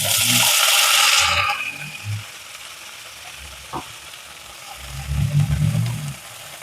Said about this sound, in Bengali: এখানে আমি ভেন্ডিগুলো ভেজে নেব।